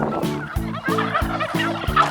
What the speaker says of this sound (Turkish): Bir sürü hindi var evet.